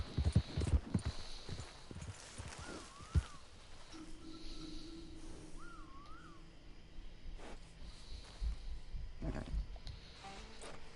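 Horse hooves clip-clop at an uneven pace in Red Dead Redemption 2, mixed with game sound effects and a few brief tonal chirps.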